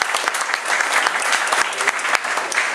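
Steady applause from an audience at a Bronx town hall hosted by the New York City comptroller, dense continuous clapping with a few sharper individual claps, sustained across the moment.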